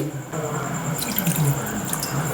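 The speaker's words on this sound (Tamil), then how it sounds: "கொஞ்சம் தண்ணியை ஊற்றி" Water pouring and splashing into a pan of tomato kurma, a brief steady trickle that starts after a moment of quiet and continues to the end.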